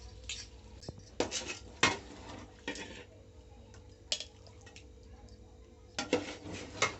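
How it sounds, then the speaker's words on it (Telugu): Drumstick pickle (munakkada tokku) is stirred and spooned into a bowl, giving scattered metallic clinks and scrapes of a spoon against steel, some in quick clusters, over a quiet background. "ఒకసారి కలుపుకొని గిన్నెలోకి తీసుకోవటమే"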